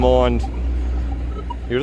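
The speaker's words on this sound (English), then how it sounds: "excuse those noisy trucks and cars today" Steady roar of trucks and cars passing nearby, with a person's voice briefly heard at the start and end.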